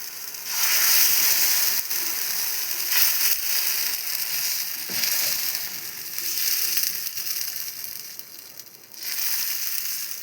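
Pitha batter sizzles and crackles steadily in a hot oiled pan, a dense close frying hiss that swells and dips over several seconds, with no voices.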